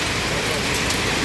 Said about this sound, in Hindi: ये बारिश हो रही है लगातार